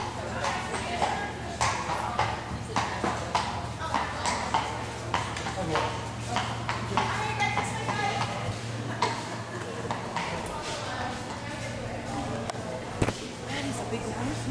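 Hooves of a big RCMP Musical Ride horse clip-clop on a hard floor in an irregular, close series of sharp knocks and pings, with people talking throughout.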